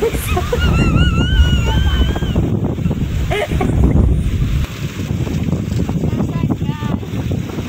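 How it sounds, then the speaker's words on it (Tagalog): Strong wind buffets the microphone with a constant roaring rumble, while birds chirp and warble faintly in the background. "Mahangin tayo, naka-aircon tayo."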